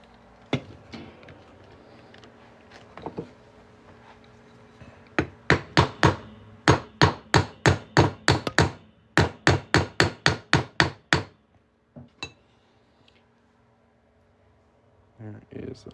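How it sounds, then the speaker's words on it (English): A center punch is hammered through the middle of a half-ounce silver round, a quick run of sharp, ringing metallic strikes in close succession, loud and near. Scattered lighter taps come before and after the main burst. "And then we're just going to hammer this punch right on through the middle."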